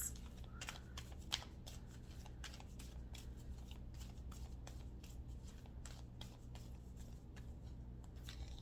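A deck of oracle cards is shuffled by hand, a faint, rapid run of crisp riffling flicks and taps continuing steadily over a low background hum, with no talk.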